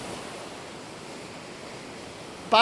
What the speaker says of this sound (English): We got a shallow bank with the waves breaking.